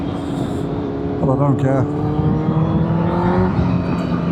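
A motorcycle engine with internal trouble revs on a back-road ride, its droning harmonic tone rising and falling steadily through the clip while someone talks briefly over it.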